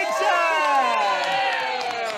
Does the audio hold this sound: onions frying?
no